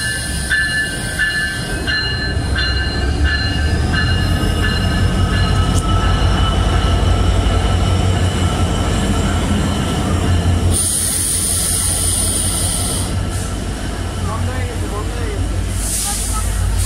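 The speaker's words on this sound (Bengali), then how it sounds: "গাইজ, আমাদের ট্রেন চলে আসছে।" The Dhumketu Express rolls into a station platform with a loud, continuous rumble and screeching wheel squeals. Wheels clack over the rails, and a bustling crowd is audible in the background.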